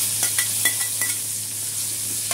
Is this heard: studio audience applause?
no